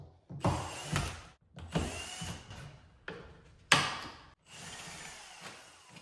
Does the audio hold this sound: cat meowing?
no